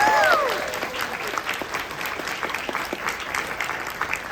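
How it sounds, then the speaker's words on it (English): A crowd applauds at a harmony music convention, starting loud and settling into steady, sustained clapping from a large audience, with a brief chirping tone at the very start. "So one last round of applause for everyone"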